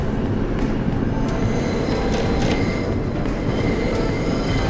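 New York City subway 2 train running on the rails with persistent high-pitched wheel squeal over a loud, continuous rumble of the cars.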